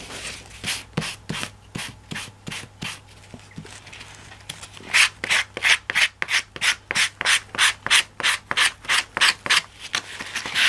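Repeated rubbing strokes of a wide brush sanding the edges of paper in a napkin-decoupage craft on an envelope and pouch, a steady rhythmic scratching run of about twenty strokes, close and clear, speeding up in the second half.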